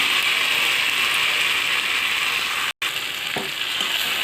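Spice paste frying in oil for a potato and raw banana curry, a continuous hissing sizzle with a brief dropout near the end and a faint clink afterward.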